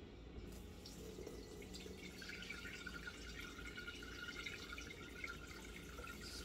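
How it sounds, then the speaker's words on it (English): Peach liqueur made with lemon peel pours through a colander in a steady, faint trickle and patter of liquid that runs without a break. "I am going to strain it in this colander here"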